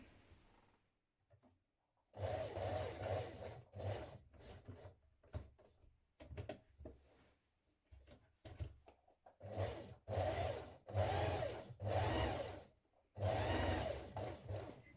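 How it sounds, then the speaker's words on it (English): A sewing machine edge stitches around three edges of a pocket in bursts of steady whirring, several runs of a few seconds each separated by quiet pauses and small handling clicks, heard close with no talk. "we're going to edge stitch around these three edges of our pocket"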